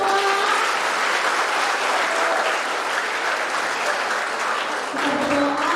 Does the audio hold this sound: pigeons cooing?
no